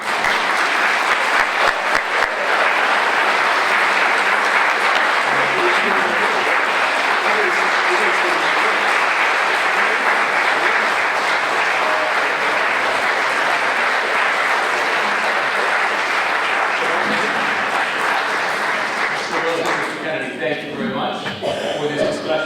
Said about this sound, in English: You may applaud again.